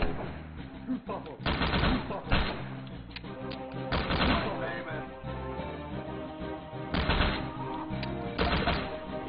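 Bursts of video game gunfire from Mushroom Kingdom Fusion, in a Castle Wolfenstein highlands stage, crack in several loud volleys over game music and effects.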